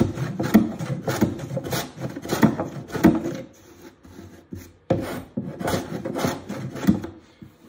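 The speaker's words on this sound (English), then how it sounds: "I'll just take a little piece of sandpaper and sand that out of there" Plywood on a DIY pirate chest toy box is sanded by hand with a small piece of sandpaper: close, rhythmic rasping strokes in quick bursts, a brief pause midway, then more strokes.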